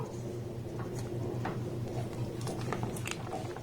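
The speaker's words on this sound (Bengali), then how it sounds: "এবার এটাকে আমি একবার খুব সুন্দর করে নাড়াচাড়া করে নেবো" A raw mango pulp mixture seasoned with black salt and regular salt is stirred in a pan, giving soft wet squelches and light scraping taps over a steady background hum.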